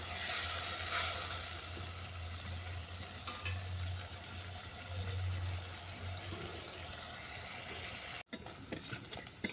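Ground sesame paste mixed with spice paste and water sautés in a pan for a Bengali til shol fish dish, giving a steady sizzling hiss broken by scraping stirs and a brief clatter near the end.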